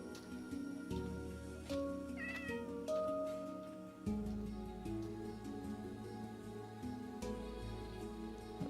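Cat meows from a Minecraft village, several short mewing calls rising over steady game music and ambience, moderately loud, no talking.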